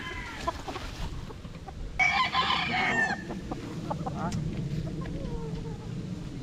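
A six-month-old imported Costa Kelso stag, a young gamefowl rooster, gives one clear crow partway through and then scattered clucks nearby, while someone talks over the bird.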